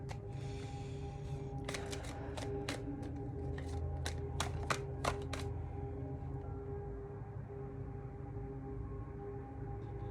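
A quick run of crisp tarot card-riffling clicks, about a second or two of shuffling, over a steady low hum, then the room settles into quiet background noise.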